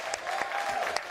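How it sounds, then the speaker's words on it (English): A Comic-Con panel audience in San Diego applauds for Stefan, a short burst of dense clapping with a few sharper claps standing out. "we do want to give you a round of applause for your incredible performance in Deadpool 2"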